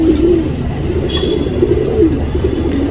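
Breeder pigeons coo in a loft in a steady, low, throaty run of calls that keeps up close by through the whole stretch, with a faint high chirp briefly above them.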